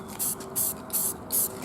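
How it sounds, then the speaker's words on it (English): Four short bursts of spray paint hiss in a steady rhythm, close and fairly loud, as gray primer is sprayed onto small miniatures in light coats. "So we're hoping that because they're so small, the spray won't blow them away"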